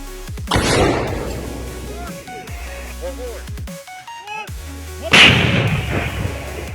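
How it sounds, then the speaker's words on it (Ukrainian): Two loud, booming artillery blasts, one early and one near the end, each with a rumbling tail, separated by quieter mechanical noise and faint tones. "Постріл!"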